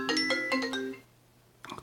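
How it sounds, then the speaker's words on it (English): A mobile phone ringtone sounds in bright, tonal, repeating chime bursts for about a second, falls quiet, then starts again briefly at the end. Nobody talks over it. "Sorry, it's my phone."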